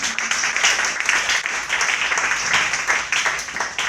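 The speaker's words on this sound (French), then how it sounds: "Est-ce qu'on peut acclamer le roi des rois?" A church congregation breaks into applause, a sustained wash of many hands clapping that swells and carries on steadily for several seconds.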